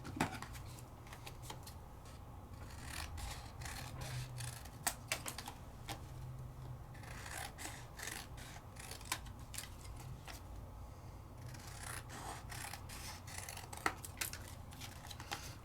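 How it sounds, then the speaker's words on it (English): Scissors cut by hand through soft pink cardstock to trim a card base: quiet, close crisp snips and paper rustles in an irregular rhythm, faint against a low background. "And let's trim it on down."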